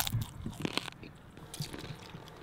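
Someone chewing and crunching salted sunflower seeds, with close, crisp bites and squishy mastication in a few irregular bursts, growing quieter toward the end.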